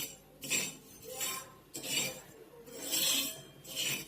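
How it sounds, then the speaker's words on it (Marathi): Flaxseeds roasting on a hot griddle while being stirred, a series of scraping, rasping bursts with a few light clinks, coming in an irregular rhythm roughly every second, fairly close and moderately quiet. "तवा गरम झालेला आहे आणि जवस भाजायला टाकलेला आहे मी।"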